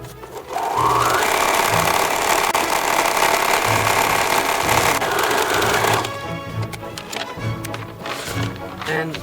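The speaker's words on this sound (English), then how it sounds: "So you bring it to your machine. It's already opened up. You have to make sure you're sewing on line 2." A sewing machine stitches along a paper-pieced fabric strip, a dense, steady whir running for about five seconds before cutting off into quieter handling noises.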